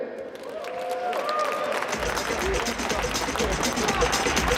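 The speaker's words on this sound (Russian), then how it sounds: "Аплодисменты, команда ДДТ." An esports awards audience at a Dota tournament ceremony breaks into steady, loud applause for a team, the clapping swelling after a brief murmur and continuing densely throughout.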